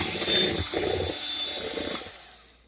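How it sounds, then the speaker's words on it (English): A steady electric mixer mixing cake batter whirs continuously with a bright high whine and low rumble, then winds down and fades out near the end. "when you're mixing your cake with an electric mixer"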